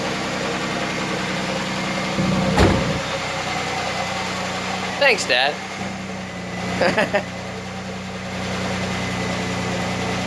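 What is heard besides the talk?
1996 Chevy Camaro swapped engine idling after first start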